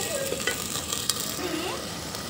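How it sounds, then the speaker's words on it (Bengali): Ginger paste frying in hot oil in a clay pot, a steady close sizzle with a few light stirring scrapes and clicks running throughout, no talking. "আদাটা আগে তো আমি তেলের উপরে কষিয়ে নিব।"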